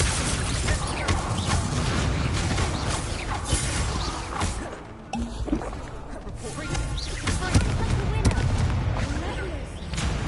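An Incendio fire spell cast in Hogwarts Legacy roars as a loud, whooshing blast of flame among crashing combat effects, sustained throughout with a brief dip midway before surging again.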